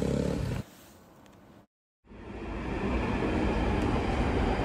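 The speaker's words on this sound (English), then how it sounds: "We're on the great public transport here in London, on the tube." A London Underground tube train rides along with a loud rumbling roar. A quieter stretch is followed by a brief cut to silence, then the roar builds steadily back up, close and continuous.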